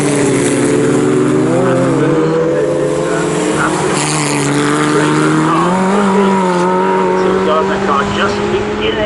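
Heritage Formula Ford race cars at Cadwell Park roar past in a close, loud pack, with engine notes rising and falling as they go by while a commentator talks over them.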